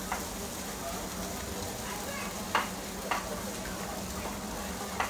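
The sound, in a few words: beating Lancashire cheese into mash in a pan for aligot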